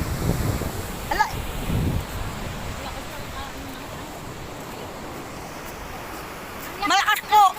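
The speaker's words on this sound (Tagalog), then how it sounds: "Malakas po ang alon dito sa dagat." Strong sea waves churned up by a storm, a steady broadband roar of surf and wind noise buffeting the microphone across the whole stretch, with a couple of louder surges near the start and people talking briefly at the end.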